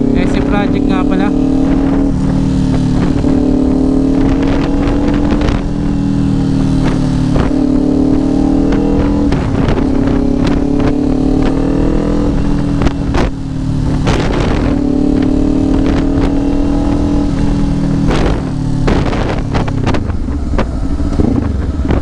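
2024 Kawasaki Ninja 500 SE motorcycle engine revving on the road, loud and close, climbing through repeated rev-matched throttle blips and gear changes, with wind noise and a voice talking over it.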